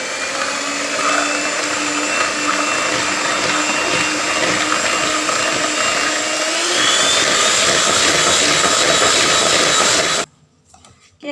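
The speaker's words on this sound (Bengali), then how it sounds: "এখন আমি কেকটা মেশিন করব" An electric mixer whirs steadily through chocolate cake batter, a loud continuous motorized drone that rises slightly partway through, then stops abruptly at the end.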